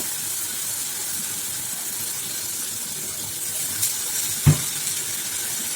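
Water pours in a steady rushing hiss into a cooking pot of onions and tomatoes, followed by a brief clunk near the end.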